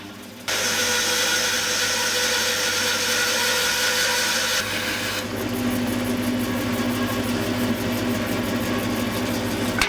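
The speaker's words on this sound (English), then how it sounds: "I put a thicker blade on my bandsaw and then resaw this." A bandsaw fitted with a thicker blade resaws an elm board, running as a loud, steady whine with a continuous grinding cut for about ten seconds. The tone shifts partway through, and no one talks.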